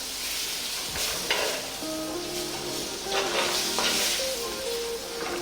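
Tomatoes and slit green chilies being stirred as they fry in a pan, a steady close sizzle with repeated scraping strokes of the spoon and faint tonal clinks.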